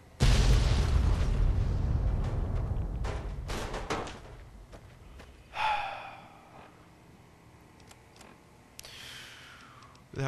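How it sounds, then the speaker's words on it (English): A loud explosion goes off in the Fallout New Vegas video game, with a heavy rumbling boom that fades over a few seconds. Later come sharper bursts and crackling debris, with a few faint sounds that could be breaths. "Oh shit, explosion."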